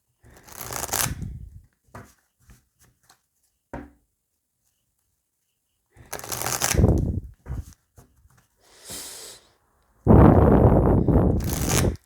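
Oracle cards for a love reading are shuffled in several separate bursts of riffling and sliding, close and fairly loud, with short quiet gaps between them and no speech.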